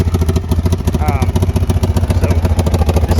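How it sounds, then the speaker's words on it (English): Kawasaki Brute Force 750 V-twin ATV engine idling with a nasty exhaust leak from the rotted rear cylinder exhaust, a loud, close, steady pulsing chug with rapid rhythmic ticking throughout, a voice briefly audible over it. "this thing has a nasty exhaust leak"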